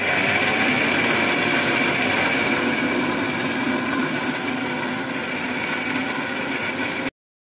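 A kitchen mixer grinder runs steadily for about seven seconds, whirring continuously with a dense motor drone as it grinds ingredients that were soaked for five to six hours for sambar, then stops abruptly.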